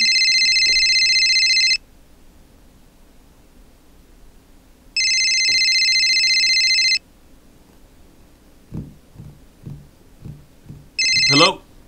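Telephone ringing after a speed-dialed call, a bright electronic ringtone pulsing in three bursts of about two seconds separated by quiet gaps, with light knocks and a short voice between rings.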